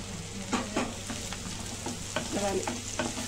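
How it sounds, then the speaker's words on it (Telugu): Green chillies and capsicum frying in oil for pav bhaji, with a steady low sizzle and several quick stirring scrapes and clacks of a spoon against the pan. "క్యాప్సికమ్ కూడా వేసేస్తున్నా, అవి కూడా వేయించుకుందాం."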